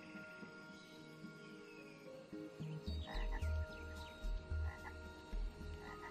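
Several frogs croak in a natural setting, starting softly over a steady background chorus and then breaking into loud, close, repeated low croaks in uneven bursts during the second half.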